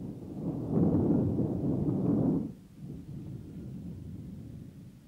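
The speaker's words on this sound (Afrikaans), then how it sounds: "Ag, is die wind, dit klink net soos in die berge" Stormy night wind roaring steadily like mountain gusts, a strong rumbling swell for the first half that drops to a lower, constant howl, with no talking.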